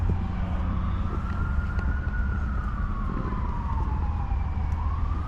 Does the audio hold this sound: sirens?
yes